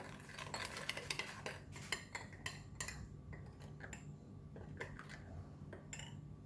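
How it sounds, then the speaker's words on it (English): A spoon clinking and scraping against a bowl while lime juice, fish sauce, ground rice and sugar are stirred together, quick uneven taps and chinks that come in short bursts against a quiet kitchen background. "Mix everything together."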